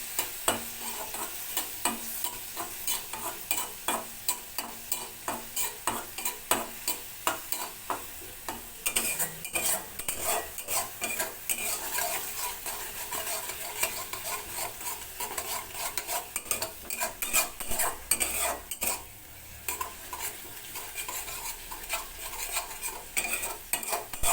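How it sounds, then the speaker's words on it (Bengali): Masala spices fry in a pan while a metal spoon stirs and scrapes repeatedly, a quick rhythmic clatter over a soft steady sizzle, close and moderately quiet with no talking. "কষিয়ে নেবো মশলা দিয়ে"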